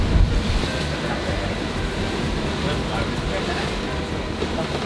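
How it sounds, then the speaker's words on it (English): Waves slap and wash against the side of a rolling sailboat at anchor, making a loud, continuous rush of water under heavy wind buffeting. "We are taking the waves from the side though"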